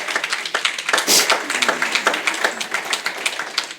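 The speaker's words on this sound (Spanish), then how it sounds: "Dale un aplauso para Dios." A church congregation claps during a sermon, close, loud, uneven bursts of hands clapping with a fluttering rhythm that carries on steadily through the short span.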